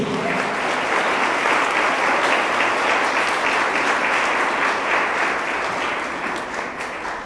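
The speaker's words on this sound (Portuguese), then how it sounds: "E só quem crê, dê um forte aplauso a Jesus." Sustained loud applause from a large church congregation, steady and dense for several seconds before easing slightly at the end.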